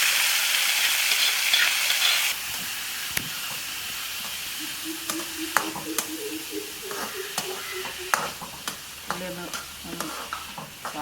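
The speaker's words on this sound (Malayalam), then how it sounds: "ഉള്ളി ഒന്ന് വാടി വരുന്നവരെ നമുക്കൊന്ന് വഴറ്റി വഴറ്റിയെടുക്കാം" Chopped onions sautéing in a pan for a Kerala onion stir fry, a steady close sizzle with repeated scrapes and clinks of a stirring spoon, louder hiss in the first two seconds, no talking.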